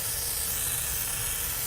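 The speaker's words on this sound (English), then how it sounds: "Okay, got the brake cleaner ready." Brake cleaner sprays from an aerosol can onto the front brake parts and hub of a Dodge Caravan, a loud, steady hiss that runs unbroken and close for the whole short burst.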